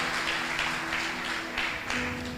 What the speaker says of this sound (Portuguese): Você pode aplaudir o nome do Senhor Jesus?